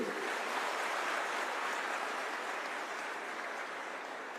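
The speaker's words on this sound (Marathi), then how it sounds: "एकदा जोरदार टाळ्या होत्या साहेबासाठी" Steady, dense applause from a live audience at a Marathi motivational talk, a continuous broadband wash of many hands held at an even level throughout with no voices over it.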